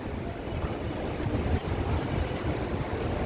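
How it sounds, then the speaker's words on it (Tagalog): Steady typhoon wind blows across the microphone with a constant low roar and rumble, no voices, continuing unbroken throughout. "humahangin na siya"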